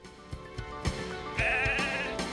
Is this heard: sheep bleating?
yes